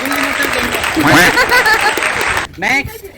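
A group claps for a child at a home talent challenge, a short round of applause mixed with chuckles and talking voices, fading out near the end before speech resumes.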